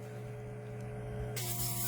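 An airbrush sprays after gunk is cleared from its needle, a steady close hiss that surges louder and brighter partway through, over a constant low compressor hum.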